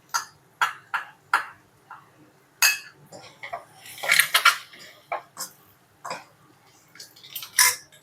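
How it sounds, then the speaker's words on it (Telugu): Lentil powder stirred into egg fry in a pan, heard as sharp, close metallic clinks and scrapes of a utensil against the pan, irregular and repeated, with no talk. "పప్పుల పొడి వేసుకొని మిక్స్ చేసుకుందాం."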